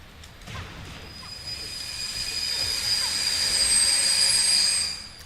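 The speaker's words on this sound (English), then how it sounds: "It's some sort of big freight train coming in." A big freight train coming in gives off a loud, high steel screech from its wheels that builds over several seconds with a low rumble beneath and then fades.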